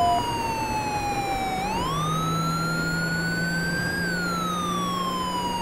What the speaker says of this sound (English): Don't see my blue lights, hear my sirens.